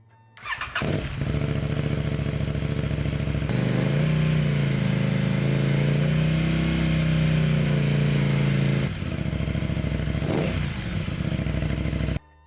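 Motorcycle fitted with a full titanium Rottweiler Performance slip-on and mid-pipe exhaust plus intake, revving loudly up close with a raw, rasping exhaust note that rises and falls through sustained throttle blips, no talk.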